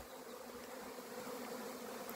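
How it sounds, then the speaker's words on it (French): Thousands of swarming honeybees buzz beneath a roof in an exotic garden, a dense continuous drone of many wings, steady and fairly faint, with no talking. "Des milliers d'abeilles."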